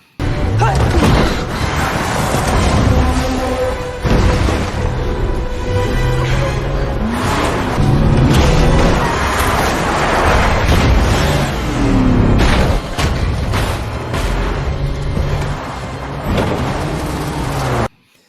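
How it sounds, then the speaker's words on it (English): Car chase in the film No Time to Die: engines roar and rev loudly with swells of acceleration and passing cars, punctuated by sharp impacts and thuds, dense and close throughout with bursts of other action sound mixed in. "just a regular car chase in that instance"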